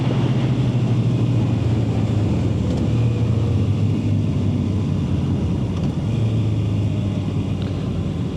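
A Honda CB650R inline-four motorcycle engine rumbles steadily under wind noise, its tone dropping and rising in stepped pitch changes as it shifts down through the gears while riding.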